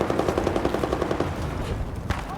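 FAMAS assault rifle firing in Battlefield 4, a rapid, loud automatic burst of evenly spaced shots for over a second, then a brief pause and a single further report, dense and up close.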